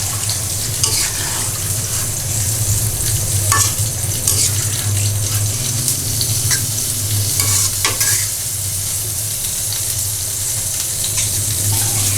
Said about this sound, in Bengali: যেহেতু বেগুন আমি ভেজে নিচ্ছি